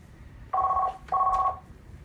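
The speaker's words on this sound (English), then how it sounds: "Oh Lord, there goes the phone again." A telephone rings indoors in two short, evenly spaced electronic bursts, fairly close and clear over a quiet background.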